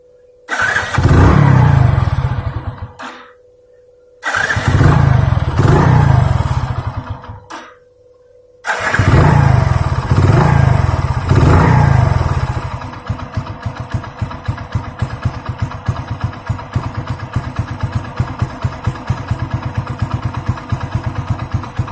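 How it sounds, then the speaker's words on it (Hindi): A Hero HF Deluxe motorcycle engine started several times in short bursts that cut out, then catching and running at a steady, rapid-ticking idle, close and loud. "ये हमारा बाइक स्टार्ट है।"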